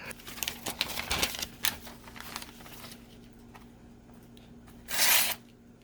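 Paper being sliced by a freshly sharpened knife during a sharpness test, giving soft crinkling and rustling with brief scraping strokes up close, then a louder burst of hissy paper noise near the end.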